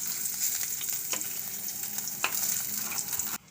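Paneer roasts in a tin kadhai, sizzling steadily with a few light scrapes of a spatula, before the sound cuts off abruptly near the end.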